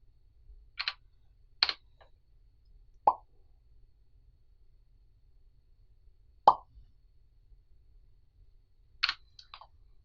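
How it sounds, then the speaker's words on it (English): Sharp mouth pops made to control a computer mouse with Talon Voice's Omega Mouse, five isolated clicks spaced a second or more apart, close and crisp in an otherwise quiet room. "You make your second pop sound, and then it clicks."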